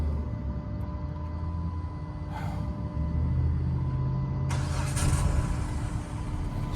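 A Dodge Charger SXT with a new alternator, battery and fuses idles steadily nearby, a low continuous engine hum that swells slightly louder partway through, with no talking.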